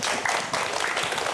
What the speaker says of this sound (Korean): 우리 최도훈 박사님께 여러분 박수 한번 부탁드리겠습니다